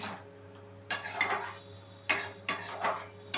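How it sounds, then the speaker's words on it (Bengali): A spoon scrapes and clatters in a pan as pre-fried cauliflower and potatoes are stirred into spices, with several short scraping bursts over a quiet kitchen hum. "আগে থেকে ভেজে রাখা ফুলকপি আর আলুগুলো আমি দিয়ে দিলাম দিয়ে আবারও খুব ভালো করে মিশিয়ে নিচ্ছি"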